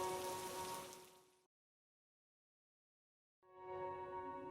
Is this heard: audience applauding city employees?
no